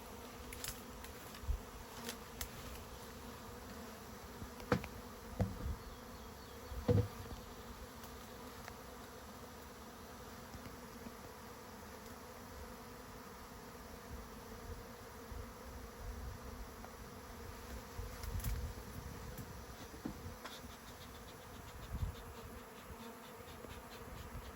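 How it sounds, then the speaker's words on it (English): A honeybee swarm clustered in a tree, wet from being sprayed with water during capture, hums with a steady, dense buzz that runs throughout, punctuated by occasional nearer bees passing close. "I really want to get these bees here in the hive."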